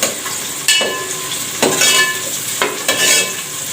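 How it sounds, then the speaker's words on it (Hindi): Onions fry in mustard oil in a home kitchen, a bright continuous sizzle with a few spatula scrapes recurring about once a second, close and clear. "अब मैं इसको फ्राई कर रही हूँ प्याज को।"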